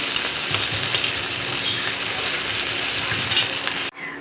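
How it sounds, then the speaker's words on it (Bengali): Bitter gourd frying in hot oil, a steady loud sizzle with faint stirring that runs almost throughout, then cuts off abruptly near the end, leaving a quieter hiss. "উচ্ছেটাকে একটু ভেজে নিই"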